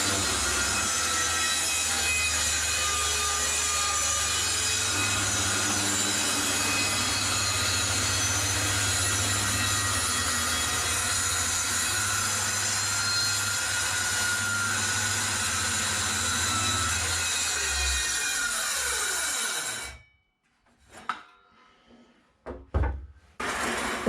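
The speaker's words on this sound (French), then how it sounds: "Je fais la deuxième découpe, on voit si j'arrive à faire un petit peu plus propre." A power saw cuts through a headboard panel with a loud, steady whine that lasts about twenty seconds, then cuts off, leaving a few scattered knocks and clatters.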